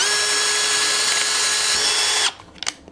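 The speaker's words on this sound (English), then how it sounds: "Now let's do a drill bit to just drill some holes in the wood." A Dremel Blueprint multi-drill with a 1/8 bit bores a hole in wood, a loud steady whine lasting over two seconds before cutting off, followed by a few faint clicks and handling sounds.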